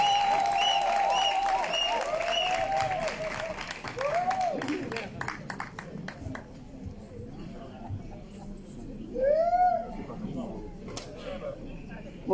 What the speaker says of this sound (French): On applaudit jusqu'à ce qu'elle arrive ici.